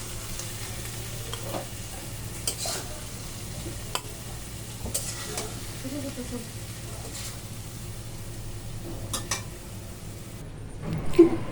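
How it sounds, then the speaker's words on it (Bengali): Hilsa fish frying in a pan of hot oil gives a steady, even sizzle throughout, with a few sharp clinks of a utensil against the pan and a brief louder stir near the end. "এখানে আমার শাপলা ভাজা মাছ ভাজা কমপ্লিট হয়ে গেল"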